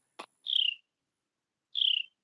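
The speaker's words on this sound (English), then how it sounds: "it's a bird right by me" A bird calls close by outdoors, a short sharp note followed by two clear, slightly falling whistles about a second apart, with silence between them.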